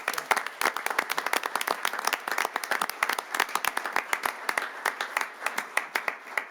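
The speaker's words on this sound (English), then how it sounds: "So one more big round of applause for these two new officers" Applause for two new police officers at a city council meeting, a steady patter of hand claps from a modest crowd lasting several seconds.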